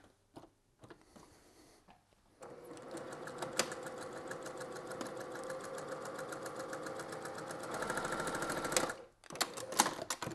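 A sewing machine stitching log cabin quilt pieces runs in close, rapid mechanical clatter for several seconds after a few short starts, then stops briefly and resumes with quick bursts.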